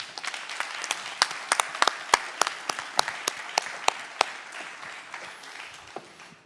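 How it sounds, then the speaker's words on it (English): Audience applause fills a conference plenary hall on anti-corruption and ending impunity, steady dense clapping with a few sharper nearby claps standing out, holding for several seconds before tapering slightly at the end. "Let's give them applause."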